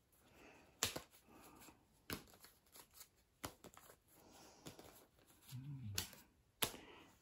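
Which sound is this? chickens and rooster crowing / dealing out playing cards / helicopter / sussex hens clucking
dealing out playing cards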